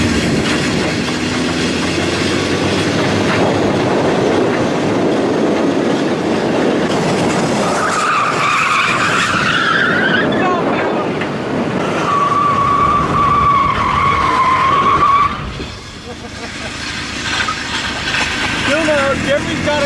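Car tires squealing as a car slides through a corner at a low-budget race event lined with tractor tires, two long high squeals over steady engine and crowd noise, with a commentator talking throughout.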